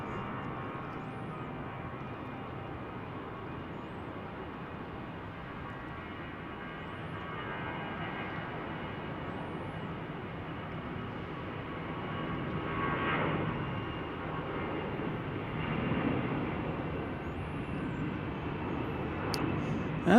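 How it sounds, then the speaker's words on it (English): A Delta Airbus A320 jet rolling for takeoff at Salt Lake City, a steady, distant broadband roar of engines that slowly swells in loudness with no talking over it. "Departure today, Delta 1492. A320 rolling."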